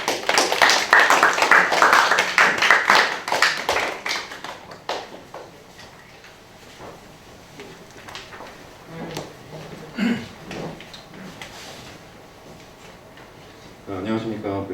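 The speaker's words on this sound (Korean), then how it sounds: "나오실 때 큰 박수 부탁드리겠습니다" An audience at a high school entrance strategy seminar claps to welcome a lecturer, a dense burst of applause that tapers off after about five seconds into scattered taps and room noise, with a voice starting at the end.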